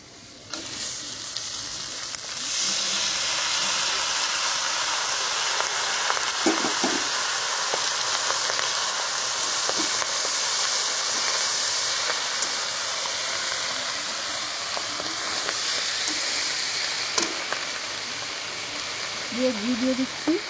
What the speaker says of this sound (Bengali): এবার ভাত ঢেলে দেবো।